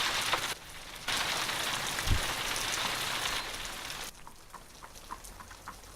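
Steady rain falls in the Sherlock Holmes: Crimes and Punishments video game, a dense broadband hiss that runs throughout, with one low thud near the middle and a quieter stretch of scattered drips toward the end.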